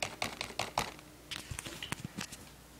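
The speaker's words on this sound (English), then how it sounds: "It's typing it as I'm typing on the keyboard." Rapid keystrokes on a wireless Microsoft keyboard paired with an iPad 2, a quick burst of close, crisp clicks followed by sparser, irregular taps.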